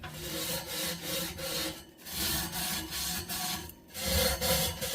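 Brisk back-and-forth scrubbing of grime from an oven surface, a rhythmic rasping rub repeated in quick strokes with brief pauses, close and moderately loud, no talking.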